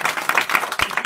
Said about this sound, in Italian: Quindi fate un applauso a lui.